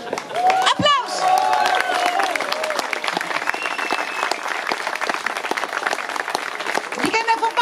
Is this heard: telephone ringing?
no